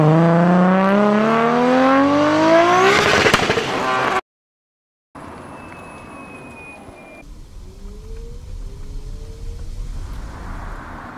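A car engine revs hard and loud, its pitch climbing steadily for about four seconds before cutting off abruptly. Quieter, mixed road and engine noise follows.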